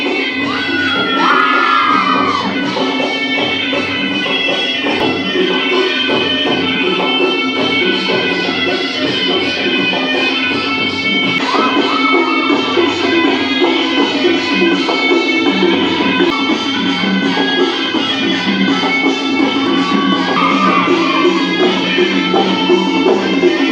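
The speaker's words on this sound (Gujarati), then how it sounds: "તાળી એ સન્માનનું પ્રતીક છે" A large crowd, heavy with children's voices, cheers and shouts continuously at an outdoor tree-planting forest festival ceremony in Puniyavant, Chhota Udepur. The loud, sustained roar holds steady throughout.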